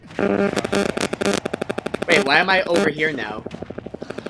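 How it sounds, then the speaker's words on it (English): An electric fan running close by makes a rapid, rhythmic chopping pulse like a helicopter rotor, steady throughout while a voice talks over it during an online Smash game session. "is there a helicopter in your area? No, man, it's just that fan."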